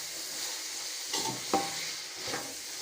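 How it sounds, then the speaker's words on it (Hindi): Chickpeas fry in oil in a pan while being stirred, giving a steady close sizzle with a few brief scraping strokes of the spoon against the metal. "चने हमारे अच्छी तरह फ्राई हो गए हैं।"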